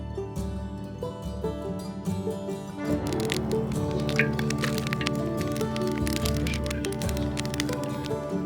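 A campfire crackles and pops at a lakeside campsite on a cool evening, starting quieter and then growing into dense, sharp snaps close by, with no talking.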